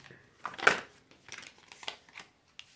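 Tarot cards being shuffled by hand, a series of soft, close papery riffles and slaps in irregular bursts, fairly quiet with no talking.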